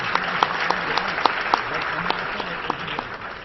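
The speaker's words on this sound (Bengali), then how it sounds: "সবাই একটা করতালি দেন, জোরে করতালি" An indoor audience at a labour union representatives' conference applauds, a dense, steady clapping that carries evenly through the whole stretch with a few sharper individual claps standing out, no talk over it.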